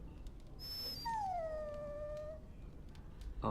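A dog whimpers and howls in Dragon Age Origins, a single drawn-out falling whine lasting a couple of seconds, close and clear over a quiet game background.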